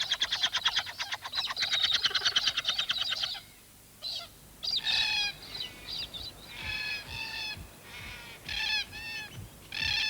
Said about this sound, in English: The creche is a cacophony of begging calls